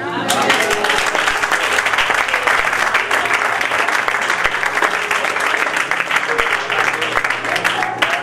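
A congregation at a French-language prophetic church gathering bursts into loud, sustained applause and cheering, dense clapping filling the room without pause while a voice talks faintly beneath.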